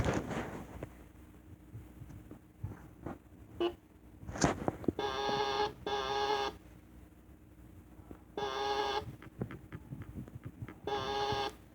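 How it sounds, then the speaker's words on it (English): Repeated electronic alarm bursts sound in short pulses, two pairs of loud buzzing tones separated by gaps, amid scattered clicks and bumps. "I am going to pull up the fire alarm."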